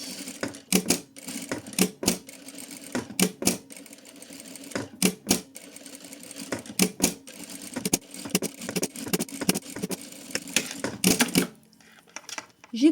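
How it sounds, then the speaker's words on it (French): Sewing machine stitching around layered fabric pieces for a flower keychain, in repeated short bursts of fast mechanical clatter separated by brief pauses, fairly close and clear with no talking. "Et je viens coudre tout autour à 5 mm."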